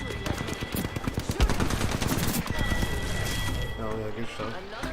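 Rapid gunfire from the Apex Legends video game, dense automatic bursts and single shots close and loud, with a player talking over the action.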